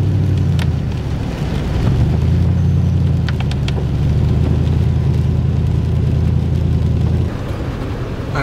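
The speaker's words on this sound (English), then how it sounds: "we've got since midnight over an inch of rain already" Steady rain pours down on a tent at deer camp with a constant broadband hiss, close and loud, with a low rumbling undertone throughout and no voices.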